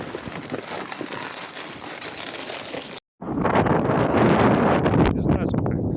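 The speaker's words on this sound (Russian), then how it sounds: "ветер сильный" Strong, gusting wind buffets an ice-fishing tent on a frozen lake in near-freezing weather, a dense roar with fabric flapping. It cuts out briefly, then returns louder and rougher.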